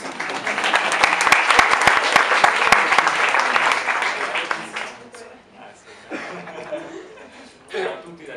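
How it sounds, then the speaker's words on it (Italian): An audience at a Milan startup event applauds the Grom gelato team with a burst of dense, close clapping that fades after about five seconds, followed by scattered chuckles, murmurs and a few voices. "Facciamo un applauso anche ai ragazzi di Grom."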